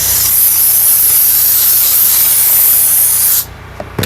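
Loud, continuous hiss of a steam cleaner jet on a Hyundai Sonata interior blasting for about three seconds, then cutting off abruptly with a few small clicks.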